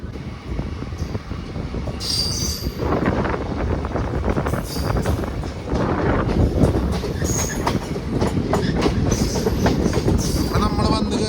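A train rumbles along the main-line rails at speed near a station with ongoing works, a loud steady roar with rhythmic clatter and occasional high metallic squeals.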